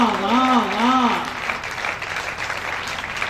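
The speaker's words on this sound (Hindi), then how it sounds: "अब लगा के थोड़ी तालियां मिली" An audience claps at a Hindi comic poetry gathering (kavi sammelan), a dense wash of applause rising after a brief sung phrase from the stage and carrying on steadily to the end.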